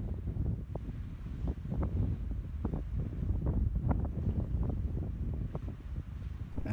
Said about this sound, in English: this is a pretty blowy corner